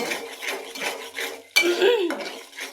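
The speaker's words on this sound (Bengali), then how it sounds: "এখন আমি আলুগুলো দিয়ে দেব" Boiled potatoes going into fried masala in a pan: a few close scrapes and knocks of a spoon against metal, then a sharper clatter as they drop in, followed by more stirring scrapes, with no talking.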